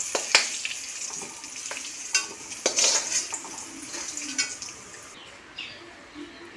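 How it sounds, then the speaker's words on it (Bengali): Potatoes frying in oil in a pan, a soft bubbling sizzle interrupted by clinks and scrapes of a spatula against metal, fairly close, with no talk. "আলুগুলো খুব ভালো করে ভাজা হয়ে গেল।"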